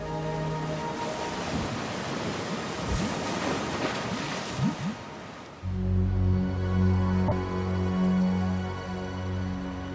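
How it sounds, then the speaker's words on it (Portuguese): Stormy seas heave and crash in a roaring wash of surf and howling wind, a steady, loud, broad rumble that shifts to a deeper, droning swell partway through, with no voices. "a terrível tempestade quebra o mastro e a vela cai nas profundezas do mar"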